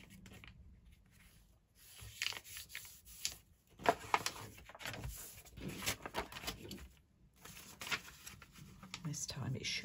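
Paper for a junk journal page is folded, giving close, soft crinkling and rustling that comes and goes in irregular handling noises. Faint talk sits underneath.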